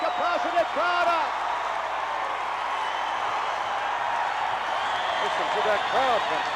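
A capacity wrestling arena crowd roars and applauds in a dense, sustained wash of cheering, with a commentator's voice rising over it at the start and end.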